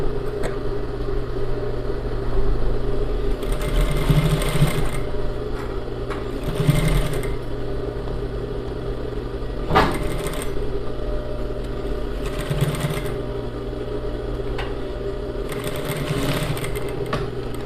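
A sewing machine stitches a ruffle onto a blouse collar in bursts, several short runs of rapid whirring with pauses of low hum between them, fairly close and with no talking.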